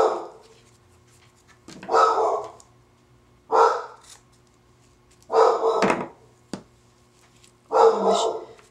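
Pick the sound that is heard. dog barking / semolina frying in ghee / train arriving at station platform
dog barking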